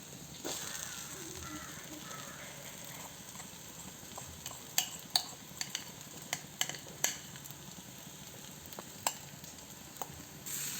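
Boiled potato being stirred into a fried spice masala in a pan, with a steady low sizzle under repeated sharp scraping clicks of a spoon against the pan, fairly quiet and without talk.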